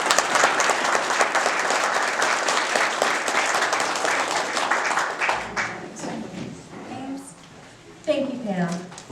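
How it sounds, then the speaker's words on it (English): An audience at a community town council meeting gives sustained applause for the candidates, a thick, even roar of clapping that thins out toward the end as voices and chatter emerge over the fading claps. "let's give a big round of applause to all of them"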